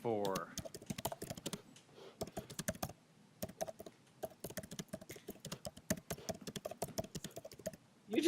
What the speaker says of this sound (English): You just all over there typing away?